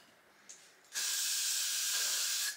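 After a faint click, a steady hairspray aerosol hisses loudly and close for about a second and a half before stopping.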